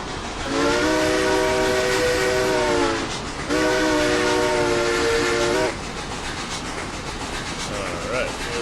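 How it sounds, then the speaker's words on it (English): A little red steam train in the RailRoads Online video game blows two long, loud harmonic whistle blasts, each lasting a couple of seconds, over a steady rumble of running gear that carries on after the whistle stops. "Little red train doing its thing, on its way."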